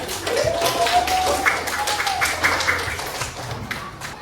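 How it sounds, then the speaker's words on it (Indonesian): A class of students in a classroom claps together in a loose, continuous patter, with a few voices mixed in. "tepuk tangan untuk semua ya"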